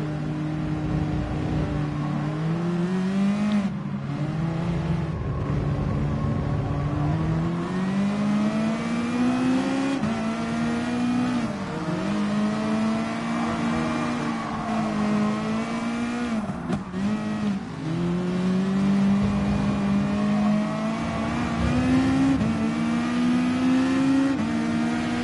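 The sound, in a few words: race cars accelerating through a turn in the video game Gran Turismo Sport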